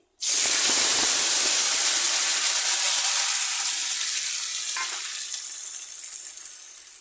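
A paste of cumin, ginger and green chilli lands in a hot pan for khichuri and bursts into a loud, close sizzle that hisses on steadily and slowly eases off.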